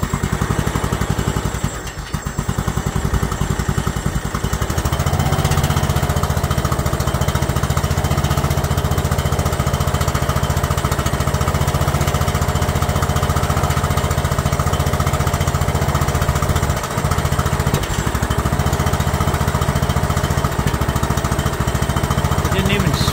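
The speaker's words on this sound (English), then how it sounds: "It cranked right over. I mean, just fired right up." A free, abandoned Yardman lawn tractor engine runs steadily and loudly after starting, holding a rough, throbbing idle throughout with a brief dip early on.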